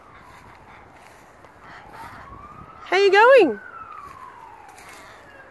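A siren wails faintly in the distance, rising and falling beneath a quiet outdoor background, while a person briefly speaks nearby over it.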